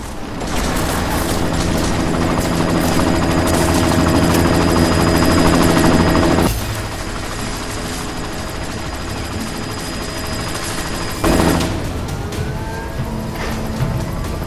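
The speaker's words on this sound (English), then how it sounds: "You've got to stop that chopper." Military helicopter in the video game Deus Ex: Mankind Divided, a loud continuous rotor thump and turbine whine with steady tonal hum, dropping sharply in level partway through, then a brief surge before settling into a lower rumble; no talking.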